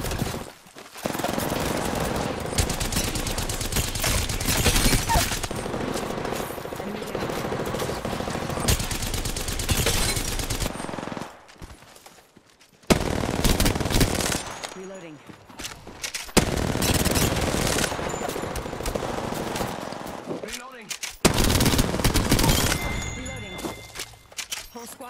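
Heavy gunfire from an Apex Legends match, long bursts of rapid automatic fire and volleys filling most of the stretch, broken by a few brief quiet gaps, loud and close with occasional footsteps.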